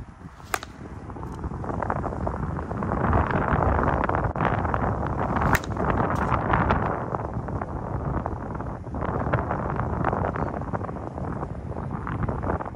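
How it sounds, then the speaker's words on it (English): Strong wind blowing hard outdoors, a loud continuous rumble and buffeting across the microphone with gusts rising and falling throughout, no clear talk. "The wind was blowing in really hard on us."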